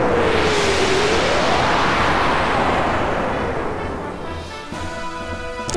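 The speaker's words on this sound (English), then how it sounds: "It's that tornado attack again." A tornado attack in the game Xenogears rushes and roars as a loud swirling wind with a rising and falling whistle, fading gradually before a tonal effect and a sudden burst at the end.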